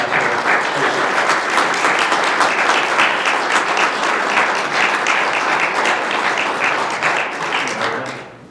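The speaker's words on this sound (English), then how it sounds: "please join me in a round of applause" Sustained audience applause welcoming a former ambassador as guest speaker at a talk, dense and steady throughout before tapering slightly at the very end.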